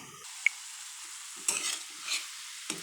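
Eggplant curry cooks in a pan with a quiet, steady sizzle, broken by a few brief scraping stirs and light clinks. No voices.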